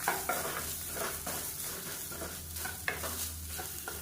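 A spoon scrapes softly and steadily as grated coconut is stirred in a hot pan after the gas is turned off. A faint sizzle runs underneath, with a couple of sharper scrapes against the pan.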